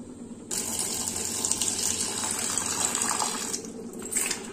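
Water from a kitchen tap gushes over bitter gourd being washed in a sink, a steady, close splashing stream that starts suddenly and runs continuously with shifting splatter as the gourd is moved under it.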